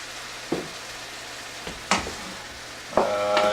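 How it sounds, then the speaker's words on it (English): Sausage and peppers sizzle softly in a pan as a splash of red or white wine is added to deglaze, with a few quick stirring scrapes and a brief hiss rising near the end. "I'm just going to do a little bit of a deglaze."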